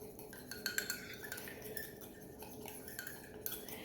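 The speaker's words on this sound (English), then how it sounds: "I'm just going to take a fork and whisk this." Fork whisking a raw egg in a mug makes quiet, quick clinking and tapping against the ceramic in an uneven rhythm, close up.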